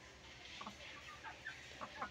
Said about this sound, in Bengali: তো আর এখানে আসিল মুরগটা আছে।